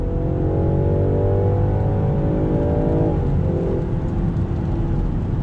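A 2020 Land Rover Defender with a ZF 8-speed automatic accelerating on throttle, a loud, close engine drone that climbs in pitch, dips briefly at a downshift, then keeps pulling steadily, with no speech.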